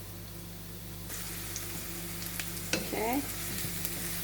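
Chicken pieces sizzle and fry steadily in a pan for a sweet chili chicken dish, giving a constant close crackling hiss. A brief scrape of stirring comes partway through, and a voice speaks briefly.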